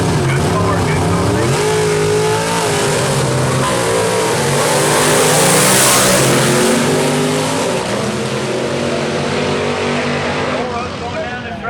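Gasser drag race cars roar down the track at a Southeast Gassers event in Knoxville, loud engines rising in pitch as they accelerate, with a voice talking over the din.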